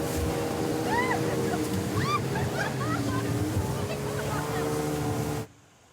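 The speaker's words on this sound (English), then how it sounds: "the boat bounced and splashed its way through the rapids" A motorboat on jungle river rapids in Borneo plows ahead with a steady engine drone, rushing water and constant splashing, with faint voices mixed in, before the sound cuts off abruptly.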